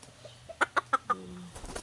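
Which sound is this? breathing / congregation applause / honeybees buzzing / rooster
rooster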